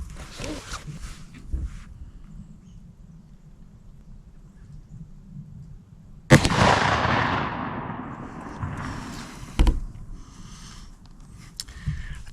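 One loud shot from a Ruger Blackhawk revolver firing a heavy lead bullet on a late-season deer hunt outdoors, a sharp crack with a long rolling echo, then a second fainter bang and some rustling and faint talk.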